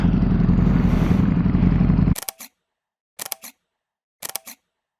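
A camera shutter fires three times in quick succession-spaced bursts while photographing a Ducati Streetfighter V4S 2024 motorcycle, each crisp mechanical click-clatter standing alone in silence after a loud rumbling outdoor noise fades.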